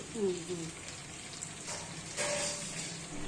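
Chicken pieces and kantola roast in oil on a stove, giving a continuous soft sizzle with light stirring scrapes, while a voice speaks briefly over it.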